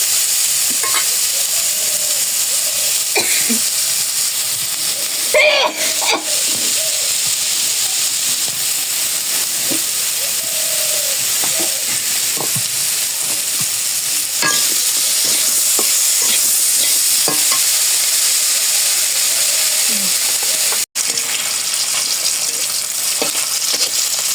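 Paneer fries in a pan, giving a steady, loud sizzle and hiss that runs unbroken throughout, with occasional scrapes and clinks of stirring over the continuous crackle and no talking.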